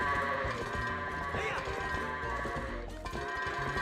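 Goats bleating in The Legend of Zelda: Twilight Princess, several wavering bleats rising over busy game music and effects, with people talking over the top.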